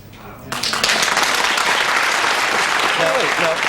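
A studio audience at a televised talk-show debate breaks into loud, sustained clapping after a brief stretch of speech. Voices talk over the tail end of the applause.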